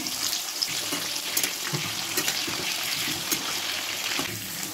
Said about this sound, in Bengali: এবার আলুগুলো তেলের মধ্যে ছেড়ে দিচ্ছি আস্তে আস্তে করে